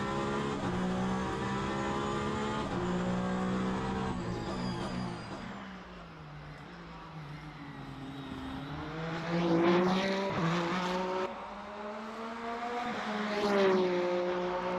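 A race car circles Imola at night in Le Mans Ultimate, its engine loud and close with rising and falling revs through gear changes, short lifts into corners and a hard pull back up, without any talk over it.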